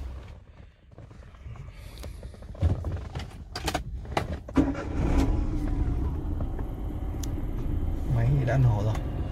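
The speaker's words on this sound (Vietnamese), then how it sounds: "nổ máy chiếc xe này." A 2010 Chevrolet Spark small car starts up with a few mechanical clicks and a brief crank, then the engine settles into a steady close idle rumble while someone talks nearby.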